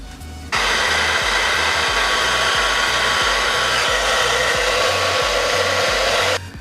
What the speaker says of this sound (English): Your blow dryer should have this, which is the cool down setting, which is gonna blow like cold air.